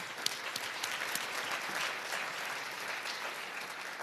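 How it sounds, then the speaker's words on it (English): An audience at a global member summit plenary applauds, a dense, even wash of clapping hands that holds steady without any voices over it. "please give yourself a round of applause"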